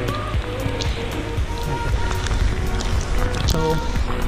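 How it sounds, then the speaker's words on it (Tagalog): Rain falling during a trail race on Mount Parawagan, a dense steady patter over the whole stretch, close and fairly loud, mixed with runners' footsteps and movement. "sinalubong kami ngayon ng ulan"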